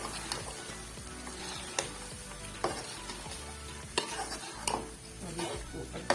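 Mustard greens for sarson ka saag hit a masala frying in ghee, giving a steady sizzle with scraping and stirring clatter of a spoon against the pot, close and continuous.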